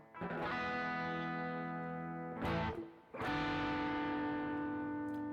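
An old Kramer guitar with a tremolo, played through heavy distortion and effects, rings out sustained, loud chords that stop briefly near the middle before a fresh strum carries on, with no voices.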